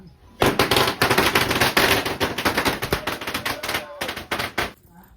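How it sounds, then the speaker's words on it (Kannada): A long string of firecrackers bursts in a rapid, dense crackle of loud pops that runs on for several seconds before stopping abruptly. "ಮನೇಲಿ ಹಬ್ಬ ಆಯಿತು, ಇನ್ನು ಪಟಾಕಿ ಹೊಡಿಬೇಕು."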